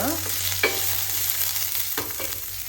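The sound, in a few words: onion, chilli and garlic frying in a pan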